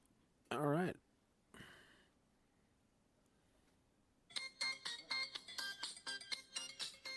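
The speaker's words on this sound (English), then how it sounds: "They just sent something to your phone." A phone notification in the video game Farming Simulator 25 gives a short, bright warbling chime. Quiet gaps follow, then a run of rhythmic tonal blips.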